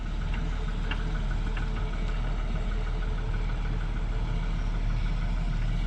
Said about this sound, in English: He runs it on a little bit of lower RPMs than normally we do